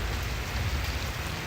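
Rain beginning to fall during a Miami thunderstorm, a steady close hiss of drops with a low rumbling undertone, no voices.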